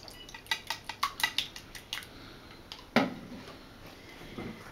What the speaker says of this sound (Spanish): Y aquí tenemos 5 huevos y batimos los huevos.